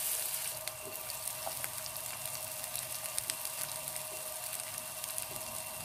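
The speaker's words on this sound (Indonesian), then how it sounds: "Kita tumis dulu kita punya bawang besar." Onions sautéing in hot oil for a Malaysian white pepper sambal, a steady faint sizzle and crackle with scattered pops, continuous and alone.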